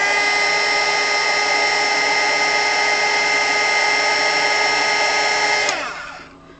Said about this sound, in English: if you've got a hairdryer, try heating it up first.